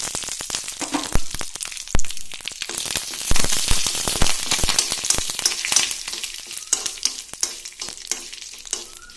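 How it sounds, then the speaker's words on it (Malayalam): Curry leaves dropped into hot tempering oil for manga pachadi crackle and sizzle loudly and close, with sharp spitting pops over a constant frying hiss that eases slightly toward the end. "ഇട്ട് കഴിയുമ്പോൾ തന്നെ നമുക്ക് ഈ കറിവേപ്പിലയും കൂടി അതിലേക്ക് ചേർത്ത് കൊടുത്ത് ഗ്യാസ് ഒന്ന് ഓഫാക്കാം."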